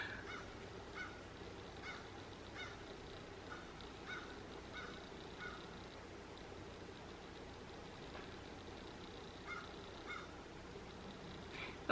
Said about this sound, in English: my crow friend who likes to hang out at the window and make a lot of noise